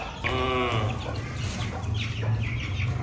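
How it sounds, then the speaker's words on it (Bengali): Chickens cluck and chatter close by, with a brief high call near the start and a busy farmyard murmur behind. "ভিতরে আছে অনেকগুলো মুরগি ছোট ছোট মুরগি আছে"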